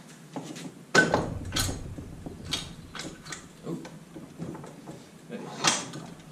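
Metal knocks, scrapes and clunks from a seized swivel bracket on a Mercury 110 9.8 HP outboard being worked and turned, irregular and close, with a sharp hit near the start and scattered grinding after.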